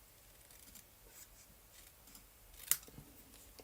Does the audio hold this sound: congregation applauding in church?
no